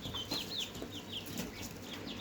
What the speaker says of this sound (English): Everybody is clucking right along.